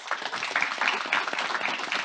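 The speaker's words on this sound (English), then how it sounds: "Can you join me in giving these two amazing women a very warm applause?" An audience at a talk on democracy and human rights in the digital era applauds two speakers, giving a short burst of brisk, fairly close clapping with no pauses.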